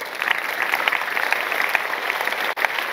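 An audience at a talk claps in brief, steady applause, a dense, even patter of many hands that fills the whole moment.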